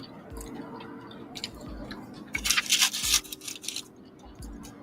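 Crinkle-cut fries being chewed up close, with wet, crunchy bites and rhythmic mouth sounds repeating steadily, growing louder in the middle over a low background hum.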